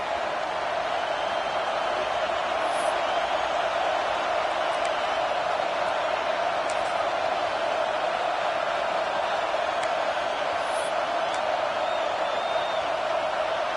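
Stadium crowd at an American football game involving the Cowboys, a steady dense roar of noise with faint whoops, heard from a distance without a break.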